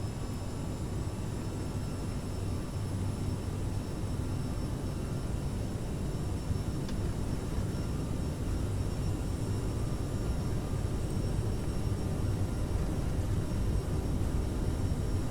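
Simulated jet engines of a CRJ 700 run at takeoff thrust in Microsoft Flight Simulator 2020, a steady, even roar with a faint high whine, continuous for the whole stretch with no talking.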